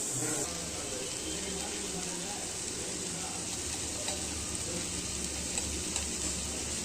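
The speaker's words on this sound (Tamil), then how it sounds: "வெங்காயம் தட்டாலும் நல்லா வதங்கட்டும் அது வரைக்கும் வெயிட் பண்ணலாம்" Onions sauté with a little salt in a pan, giving a steady low sizzle and crackle that continues without pause at a moderate level.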